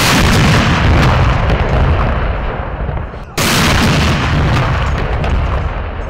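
Booming cannon fire from a 21-gun salute marking a national holiday in a Pakistani city, two loud sustained blasts with a rumbling tail, separated by a brief dip.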